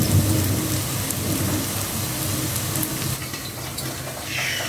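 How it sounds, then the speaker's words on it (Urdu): Heavy rain and hail pour steadily in a loud continuous roar, with a low rumble of thunder underneath, heard from indoors near a street. "آپ کو پیچھے سے وہ بادلوں کی آواز آ رہی ہوگی"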